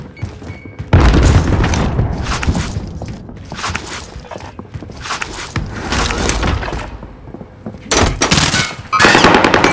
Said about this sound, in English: Sending frag!